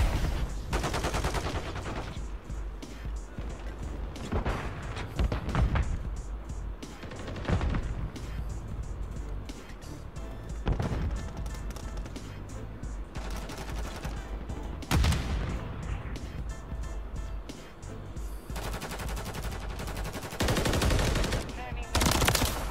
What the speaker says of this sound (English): I didn't see that guy at all until he started shooting